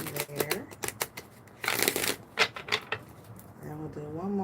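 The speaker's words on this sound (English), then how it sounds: "I'm going to shuffle 2 more times, cut, and then we'll go from there." Tarot cards being shuffled and cut by hand, a series of quick riffling rustles and soft slaps, close and fairly loud, with brief spoken words breaking in toward the end.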